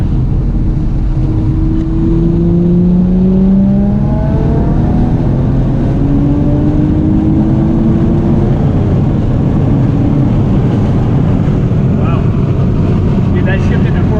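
A tuned 2001 Audi B5 S4 with Tial 770 turbos pulls hard from the cabin, its engine droning loud and rising steadily with a gear change, wind noise over the top and occupants talking briefly.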